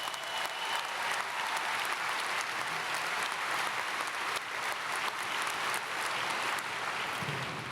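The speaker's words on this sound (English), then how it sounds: "Let's give him another round of applause." An audience at the 2018 Lone Star College CyFair graduation ceremony gives sustained applause, a dense, continuous roar of many hands clapping that holds steady for several seconds.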